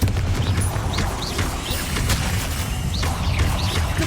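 Confringo blasting spells in Hogwarts Legacy on PS5 go off in a loud, dense run of booming explosions and crackling bursts over a rumbling game soundtrack, with no pauses.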